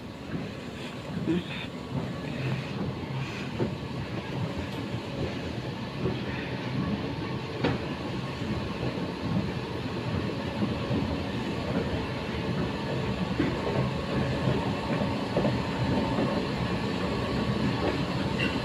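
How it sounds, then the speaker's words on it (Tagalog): A Taipei MRT train runs between Xingfu and Minquan stations, a steady rumbling roar with faint rail clicks and a rising hum throughout. "sasakay na ako mamaya na naman ng train"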